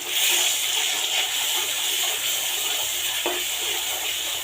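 Spices frying in hot oil for a Bengali home-cooked dish, a steady close hiss and sizzle throughout, with faint stirring or clinks partway through and no talk.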